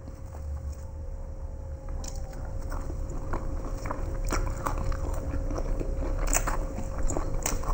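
Punugulu, a deep-fried snack, being eaten during a home eating challenge, with steady crunchy bites and chewing close to the microphone over a constant background hum, no talking.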